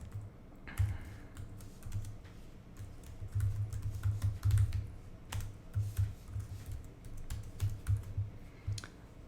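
Objective-C code is typed on a computer keyboard, a long stretch of rapid, uneven key clatter with occasional louder taps and short breaks, recorded close with no speech.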